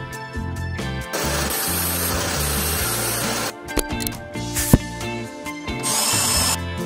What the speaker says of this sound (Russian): Как можно использовать непригодную биту для шуруповерта.